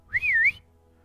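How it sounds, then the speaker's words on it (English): A single sharp whistle, rising then wavering and falling over about half a second, loud and close, followed by near silence; the tabletop fantasy game setting suggests a voice performing it. "Now you're almost to the cup and the coin when there's a whistle."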